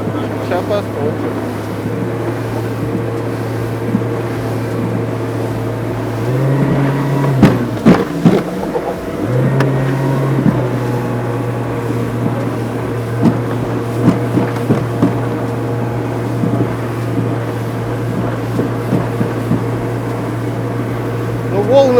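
An ALUMA Storm 577 fishing and leisure motorboat cutting through waves: a steady low outboard drone with wind buffeting the microphone and splashy hull slaps, while people talk over it.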